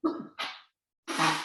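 A person sneezes once indoors, a sharp burst with a brief intake before it, then after a short silence a second loud breathy expulsion follows.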